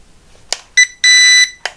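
Radio controller for a Baichun BC5C drone powering on: a short click, two bright electronic beeps, the second held longer, then another click, close and clear with no talk.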